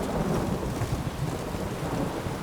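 Rain and thunder in The Witcher 3: a dense, steady hiss of heavy rainfall with a low rumbling underneath, continuous and enveloping, with no voices.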